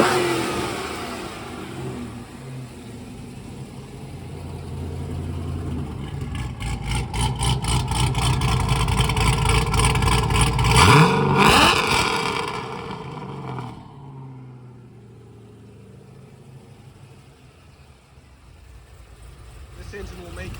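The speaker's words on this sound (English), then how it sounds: "I'll go ahead and rev it up here." A 2003 C5 Corvette Z06 LS6 V8, sold as a standalone engine in top shape, revs up steadily to a loud peak around the middle, then drops back to a lower rumble, with a voice talking over parts of it.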